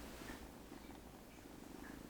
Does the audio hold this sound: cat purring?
yes